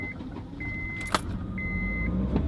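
A used Honda car's engine runs roughly at a steady idle, a low continuous rumble close by with a faint intermittent whine and a brief sharp click.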